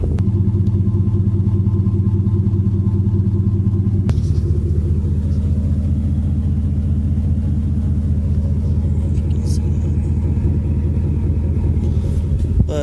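A 2015 Ford F150 5.0 V8 with WWP stainless dual exhaust idles with a deep, steady, loud rumble, the low pulsing tone continuous throughout and close by.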